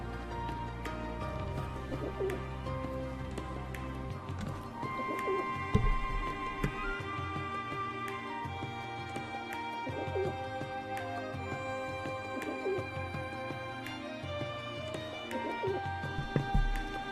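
Birds coo and chirp steadily over a layered musical backdrop in the video game Trails of Cold Steel 3, several calls repeating throughout at moderate volume with no talking.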